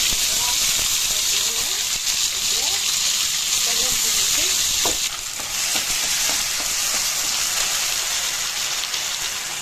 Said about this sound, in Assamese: লাগি ধৰিছে কাৰণে অকণমান পানী ইয়াত দি দিছোঁ